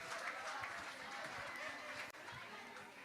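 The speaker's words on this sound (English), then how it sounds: "Please, let's give ourselves a round of applause." A women's summit audience applauding themselves, a continuous, even patter of many hands clapping with faint crowd murmur, heard at a distance and fairly quiet.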